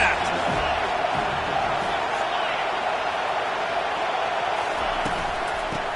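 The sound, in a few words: stadium crowd cheering at football game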